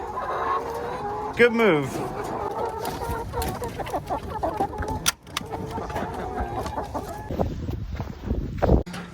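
Chickens cluck softly and steadily in a mobile egg coop, with occasional louder calls and rustling, while a person briefly speaks nearby.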